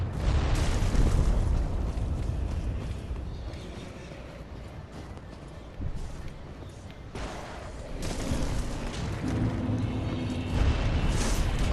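An enemy fire attack in the Dark Souls 3 video game erupts in heavy rumbling booms and bursts of flame, loud up close, easing briefly midway before surging again under the game's roaring low end.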